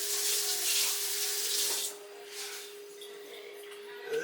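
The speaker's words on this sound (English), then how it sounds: "Let me rinse my knife off." Kitchen sink tap water runs onto a knife being rinsed, a steady splashing hiss that drops to a quieter trickle partway through, over a faint electrical hum.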